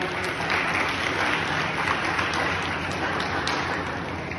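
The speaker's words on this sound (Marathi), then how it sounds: "टाळ्या वाजवा सर्वांनी." A seated audience at a Bhagavad Gita recitation or class breaks into steady, dense applause, many hands clapping together at an even level with no pauses from start to finish.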